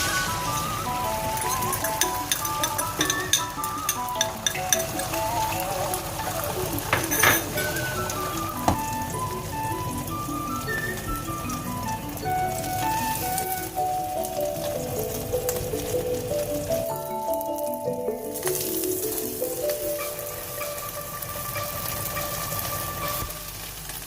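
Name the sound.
eggs frying in a pan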